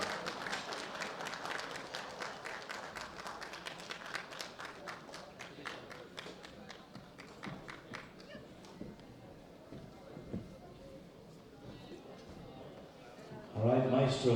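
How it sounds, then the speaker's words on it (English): Sustained audience applause at a world bench press championship for 105 kg men's lifters, dense clapping filling the hall for over ten seconds before fading slightly, with a burst of louder sound near the end. "Big round of applause for all of our lifters, ladies and gentlemen, in that category."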